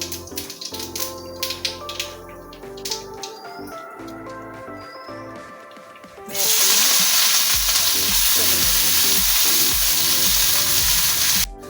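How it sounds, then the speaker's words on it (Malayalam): Mustard seeds spluttering in hot oil for tempering a fish head and raw plantain dish; crackling and scraping at first, then a loud, dense, continuous sizzle fills the second half, close and without speech. "ഇതിലേക്ക് കുറച്ച് കടുകിടാം കടുക് പൊട്ടിയിട്ട്"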